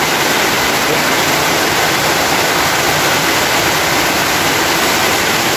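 Dense, steady roar of heavy rain fills the clip continuously, a loud broadband wash like a heavy downpour with no voices.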